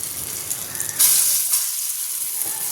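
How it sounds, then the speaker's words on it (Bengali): Bora fritters drop into hot oil in a wok, setting off a sudden loud hiss that settles into a steady sizzle, heard alone. "আর কড়াই তেল গরম হয়ে গেছে, এবার বড়াগুলো ভেজে নেব"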